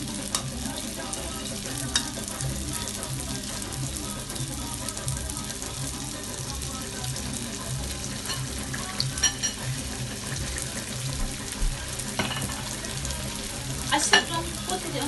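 A homemade meat pie frying in oil gives a steady, loud sizzle that runs throughout, with occasional louder crackles and scraping sounds as it is turned.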